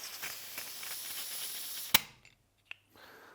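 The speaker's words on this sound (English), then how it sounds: "A lot of gas spill, as always." A WE Vityaz 9mm gas blowback airsoft rifle fires a single sharp, loud crack with a burst of hissing gas, followed by a brief click and a faint hiss as the gas spills, with no talk.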